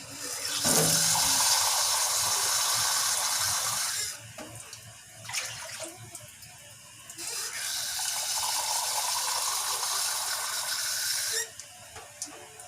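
Water runs and pours steadily into a pot for cooking noodles with moringa and alugbati leaves, a loud continuous splashing stream that breaks off briefly midway, then resumes strongly before stopping, with no talk.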